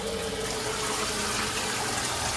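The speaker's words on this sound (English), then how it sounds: "look, turn on a lovely shower" Steady hiss of a shower running in a hotel room, loud and continuous with even, broad rushing water and no voices.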